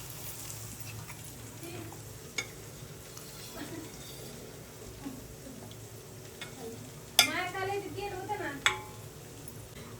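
Quiet stirring of cooked dal and pumpkin into a masala in a pan, soft scraping over a low background hum, with a sharper clatter of the spoon against the pan near the end.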